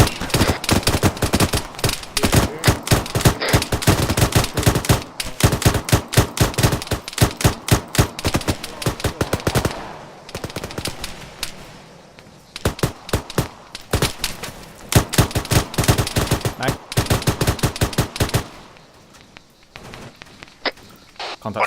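Rifle and machine-gun fire in ArmA 3 during a British airborne milsim training session, with dense, loud bursts of rapid shots in long volleys that ease briefly midway and then resume heavily.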